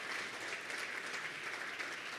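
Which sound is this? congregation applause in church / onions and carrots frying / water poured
congregation applause in church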